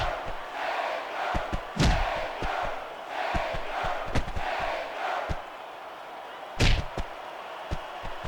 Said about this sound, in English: I can't remember the last time I've seen a crowd so pumped up.